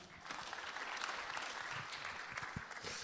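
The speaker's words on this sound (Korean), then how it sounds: "예, 박수를 받겠습니다." Applause from a policy-forum audience in a church setting, a steady, fairly faint patter of many hands clapping throughout, a few close individual claps standing out.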